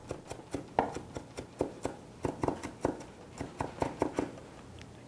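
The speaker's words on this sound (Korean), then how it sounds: "스테이크의 면이 매끄럽게 하기 위해서 양파를 좀 곱게 다져주겠습니다." Onion is finely chopped with a knife for Salisbury steak, a steady run of crisp taps on a board at a quick, fairly even rhythm, close and moderately loud with no talk.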